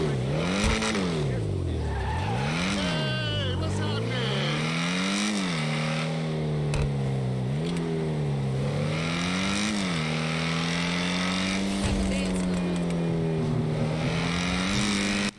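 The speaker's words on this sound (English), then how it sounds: "Not only does the exhaust system sound really good" The Jugular sports car in GTA 5: engine note rises and falls steadily with rev changes, a loud sporty exhaust drone held up front for the whole stretch.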